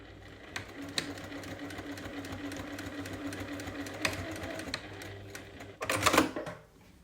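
A sewing machine stitches the seams of a sleeveless lined vest made over from a Monceau cardigan, running steadily at close range and then speeding up into a louder burst near the end, with no voice.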